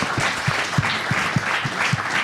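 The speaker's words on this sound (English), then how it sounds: "Let's give another round of applause to our amazing cast tonight." An audience applauds the cast after a live backyard history performance, steady clapping at moderate loudness with a few sharper claps standing out in a fairly regular pulse, no voices over it.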